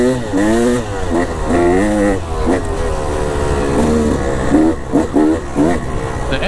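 KTM motorcycle being ridden on a test ride, its engine rising and falling through repeated revving gear pulls, close and loud, with someone talking over it.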